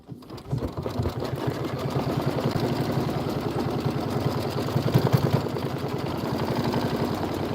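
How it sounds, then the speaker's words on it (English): An embroidery sewing machine stitches a tack-down line on felt, a rapid, steady mechanical whir of needle strokes running continuously and close after a brief start. "And then I'm just going to go ahead and hit start. Color doesn't make a difference. It's going to sew the tack down."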